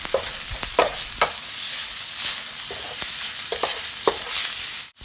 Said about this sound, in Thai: พอพริกแกงของเราหอมได้ที่แล้วใส่หมูค่ะ หลังจากนั้นเราจะผัดให้หมูรัดตัวเลยค่ะ